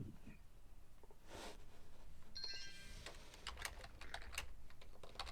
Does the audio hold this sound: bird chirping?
no